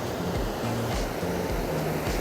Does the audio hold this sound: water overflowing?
yes